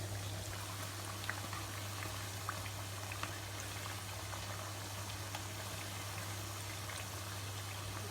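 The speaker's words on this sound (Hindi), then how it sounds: "फिर 4-5 मिनट दूसरी साइड से फ्राई करेंगे" Pakoras frying in oil, with a steady, even bubbling hiss that runs the whole time, flecked with tiny pops over a constant low hum and no voices.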